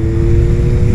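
Yamaha XSR900 GP motorcycle with its three-cylinder CP3 engine idling close by, a loud, steady low rumble with an even throb and no voices.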